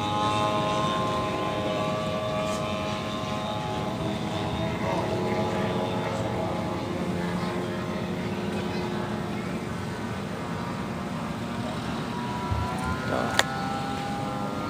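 An RC model biplane at an airshow runs its engine with a steady droning buzz and a faint tonal whine while taxiing out to the flight line, and other motors and crowd noise hum in the background.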